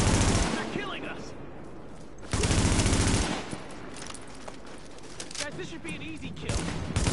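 M4 rifle gunfire in The Division, loud bursts of automatic fire close by, with a heavy volley in the middle and scattered shots as someone talks over the firefight.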